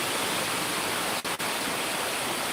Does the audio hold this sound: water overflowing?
yes